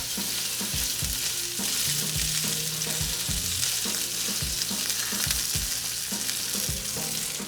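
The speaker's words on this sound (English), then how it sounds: "So this pan's pretty hot, and we're gonna lay this flat down." Wild turkey breast frying in a hot pan with high smoke point oil such as avocado or grapeseed: a steady loud sizzle and crackle with a few scraping knocks, no voices.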